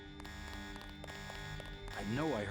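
An alarm in the video game Deus Ex blares as a wavering electronic siren under game music and ambient tones, growing louder near the end while people talk.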